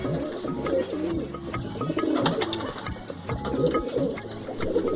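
Pet pigeons coo repeatedly at close range, their low burbling calls overlapping in a steady chorus with faint rustling.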